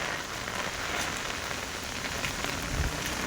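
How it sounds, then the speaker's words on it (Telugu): Continuous rain falls steadily on surfaces, making a dense, even hiss with scattered drops throughout and no voices. "యాడ చూసినా అదే వాన."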